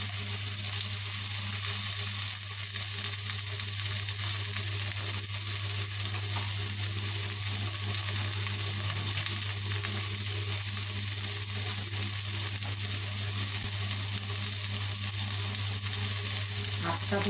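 Tomatoes sizzle and fry in a hot pan, a constant loud hiss with faint crackles and an occasional stir, continuing steadily with no speech.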